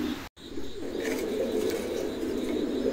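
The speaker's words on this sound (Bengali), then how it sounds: "খুবই চমৎকার এক জোড়া কবুতর" A pair of pigeons coo in low, steady murmurs, close by, after a brief dropout. The coos run almost unbroken under faint background noise and nobody speaks.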